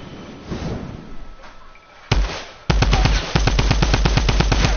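Video game gunfire aimed at a C4 charge: a single loud shot, then a rapid regular burst of automatic fire, close and dominant, after a quieter stretch of background noise.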